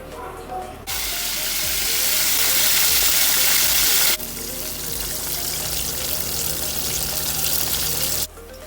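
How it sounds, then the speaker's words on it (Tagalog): Salted egg chicken pieces double frying in hot oil, a loud steady sizzle that jumps up sharply, dips briefly midway, then roars on before cutting off near the end, with no voices. "I-double fry pa natin yan. So, ayan. Double fry na natin"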